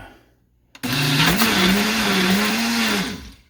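Farm fresh eggs being whipped in a blender, a sudden loud whirring motor that starts after a brief click, holds a steady droning hum for about two seconds, then winds down, close and alone.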